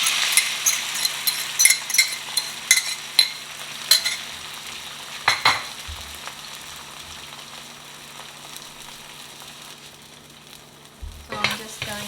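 Eggs frying with chorizo in a pan, a continuous crackling sizzle broken by spatula scrapes and stirring clatter, close and fairly quiet, ending with a few louder knocks.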